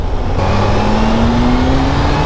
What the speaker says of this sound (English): when I pull back the throttle, so you do still get a little bit of power in that mid-range